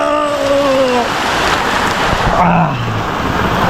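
Heavy rain pours down on an auto rickshaw in a loud, constant roar, with a brief tonal sound rising above it near the start.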